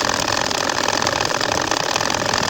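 A sewing machine runs continuously while stitching a baby kantha quilt, a steady close, fairly loud mechanical whir with a fast, even rhythm throughout and no talking.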